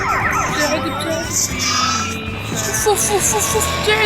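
Police sirens wail in the video game GTA San Andreas, rising and falling continuously and loud throughout, mixed with game traffic noise while someone talks over them.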